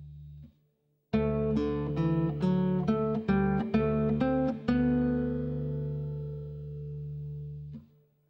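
Guitar plays measure 12 of Bach's "Jesu, Joy of Man's Desiring", an open low E with G-string notes, a short run of plucked notes that ends on a ringing note fading out, close and alone.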